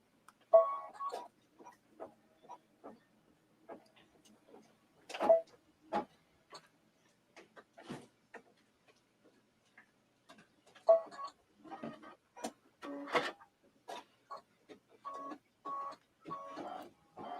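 An embroidery machine stitches the background of a Halloween mug rug, giving faint irregular ticking and clicking bursts with short mechanical whirring runs, quiet and spread out over the stretch.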